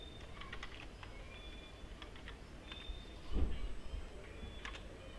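A MATLAB command being typed on a computer keyboard, light irregular key clicks at close range, a short burst of faster taps partway through, no talking.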